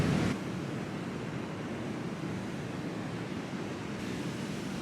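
Ocean surf on the shore at Santa Teresa, Costa Rica, a constant broad wash of breaking waves mixed with wind rushing against the microphone, steady and fairly loud throughout.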